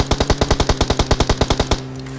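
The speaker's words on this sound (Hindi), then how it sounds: "तो मैं बोलता हूँ भैया गोली चलाओ।" Rapid burst of about fifteen evenly spaced gunshots in PUBG Mobile, loud and sharp, then sudden stop leaving faint background hum.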